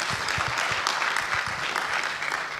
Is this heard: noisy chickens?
no